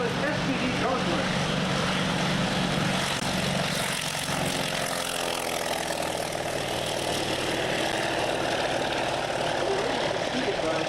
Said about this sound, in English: And here another radio engine powered aircraft, the Douglas SPD Gauntlet.